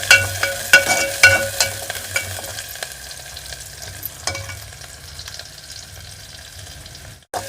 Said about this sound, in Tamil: இந்த சின்ன வெங்காயத்தை கொஞ்சம் நல்லா செவக்க வதக்க போகிறோம்.